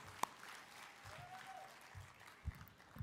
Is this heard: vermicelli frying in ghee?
no